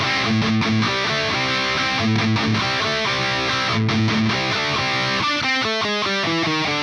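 Loud distorted electric guitar plays the driving pre-chorus riff of a song, chugging chords ending in a quicker run of higher notes, with no talking.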